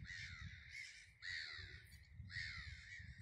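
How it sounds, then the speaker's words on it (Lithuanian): Seagulls calling in the middle of Kaunas, Lithuania, on a spring morning, with three harsh, loud calls repeating at a steady rhythm over a low rumbling background. "O žuvėdrų klegesys kaip prie jūros."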